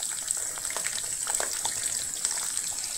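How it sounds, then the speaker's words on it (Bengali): Cut potatoes drop into garlic frying in a wok, giving a steady, close hiss of sizzling oil with scattered crackles and pops throughout. "আর এখন আমি দিয়ে দিচ্ছি আগে থেকে কেটে রাখা আলু।"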